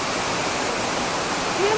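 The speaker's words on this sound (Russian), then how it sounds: "мы с вами находимся на 39-м километре Сегемского ущелья у знаменитых Сегемских водопадов. Вот они." The Chegem waterfalls in the Chegem gorge pour out of a rock face. Rushing water makes a dense, steady roar that fills the whole moment without a break.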